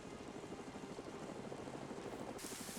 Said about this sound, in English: we're also seeing a helicopter pulling over to where the Blue 4 guys in the boats are